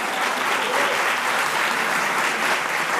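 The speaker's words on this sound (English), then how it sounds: "clap your hands." An audience at a law summit applauds, with dense, loud clapping that holds steady for the whole stretch and a faint voice underneath.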